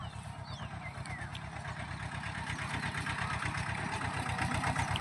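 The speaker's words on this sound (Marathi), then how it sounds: "एकदम छोटा ट्रॅक्टर आहे" A very small farm tractor engine runs steadily at idle nearby, a fast even chugging that stays constant and grows slightly louder over five seconds, with no one talking.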